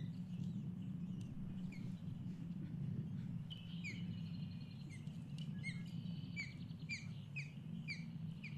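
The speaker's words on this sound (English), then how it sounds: "this is the soft chirping that I was talking about. She will soft chirp to her babies." A female osprey gives soft, quick chirps to her chicks, repeated in short faint bursts over a steady low background rumble.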